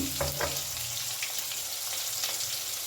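Tomato frying in a pan over a very low gas flame gives a soft, even sizzle with a couple of light stirring knocks near the start.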